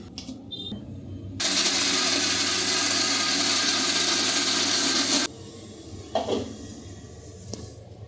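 A mixer grinder whirs loudly and steadily for about four seconds as it grinds semolina batter, starting and stopping abruptly with quieter kitchen clatter before and after.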